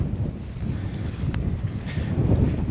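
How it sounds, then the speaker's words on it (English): Strong wind on a stormy day buffets the microphone outdoors, a steady low rumbling roar with gusty swells and no talking. "It's very windy today."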